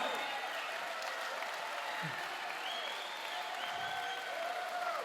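An audience applauding veterans at The Great Smoke 2025 live event, a sustained wash of clapping and crowd noise at moderate level, with faint whistles or tonal sounds drifting over it.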